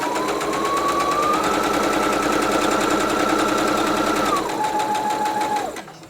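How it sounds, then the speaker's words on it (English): A sewing machine runs a straight stitch on fabric and then backstitches, giving a loud, close, continuous motor whir with rapid needle chatter whose pitch steps down near the end before the machine stops. "So I'm going to go a little bit of a straight stitch, and then I will backstitch just 1 or 2,"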